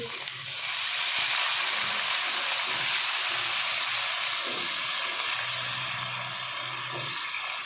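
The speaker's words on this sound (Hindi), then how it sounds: "तो अब इसमें मैं अदरक लहसुन का पेस्ट जो है वो शामिल कर दूँगी।" Ginger garlic paste fries in hot oil with browned onions for chana pulao, giving a loud, continuous sizzle and hiss throughout, with faint stirring and clatter underneath.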